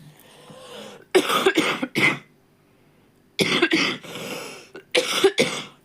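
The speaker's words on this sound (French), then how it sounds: "Vous avez vu ma toux?" A person coughs in several harsh, bursting fits, two clusters of three or four loud close coughs separated by quiet pauses, with faint breathing between them.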